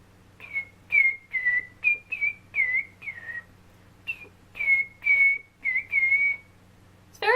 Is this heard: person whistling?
yes